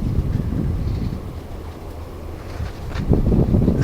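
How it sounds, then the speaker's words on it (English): Wind gusting across an outdoor microphone, a steady low buffeting rumble that eases in the middle and swells louder again near the end, with no talking. "here comes a nice breeze. See if I get any wind noise here."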